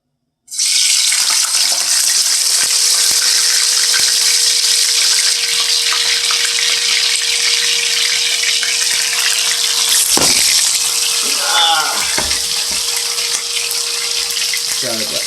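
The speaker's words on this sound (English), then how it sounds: "Now my pot is hot for my fish. So I mean, I'm just gonna put my fish in my pot." Snapper fish dropped into a hot pot of oil, a loud, steady, broad sizzle that roars for the whole stretch, with a few clatters near the end and no talking.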